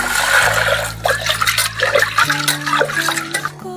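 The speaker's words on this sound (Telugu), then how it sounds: "నీళ్ళు తీసుకొని కడుక్కోవాలి." Toor dal being rinsed with water in a pressure cooker, with continuous sloshing and trickling through most of the stretch, close and moderately loud, while steady tonal kitchen hum runs underneath.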